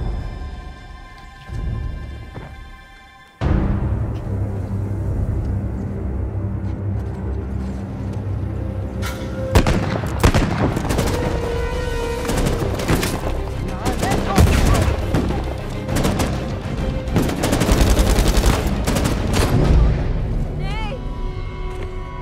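Sustained gunfire in the video game Uncharted 4: A Thief's End erupts after a quieter opening, with loud overlapping bursts and sharp cracks continuing to the end, under Turkish-dubbed dialogue.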